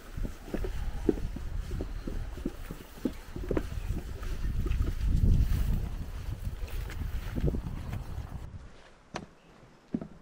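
Steady low rumbling engine and water noise from a jet boat underway on the Wairaurahiri River, New Zealand, with wind buffeting the microphone, then quieting toward the end.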